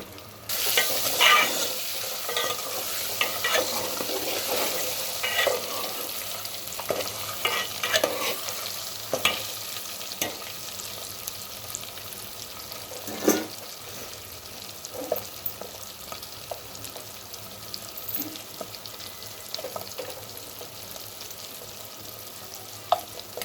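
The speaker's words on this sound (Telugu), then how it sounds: "కోడిగుడ్లు ఫ్రై అయ్యే వరకు ఫ్రై చేసుకోండి." Eggs frying in a pan with salt for egg curry, a steady close sizzle with occasional stirring scrapes and small pops throughout, no voices.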